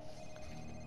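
A phone rings inside a Spider-Man video game, a short steady electronic ringtone tone heard alone for under a second.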